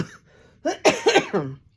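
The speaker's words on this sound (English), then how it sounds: "Let me cough 1 second." Two or three close, hoarse coughs in quick succession after a brief faint breath, with no talking.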